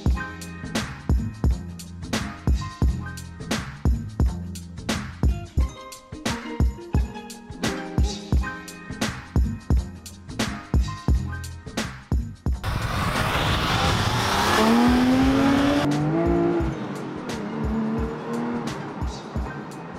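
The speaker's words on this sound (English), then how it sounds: "there's no more iconic noise than the wail of a Porsche Flat 6, particularly in the RS" A Porsche 911 GT3 Club Sport's flat-six engine revs hard on the road in rapid, rhythmic pulses through the gears, then rises into a sustained loud wail with tire noise as it accelerates.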